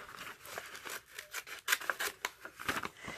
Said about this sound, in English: I'll take this and I'm going to cut this out.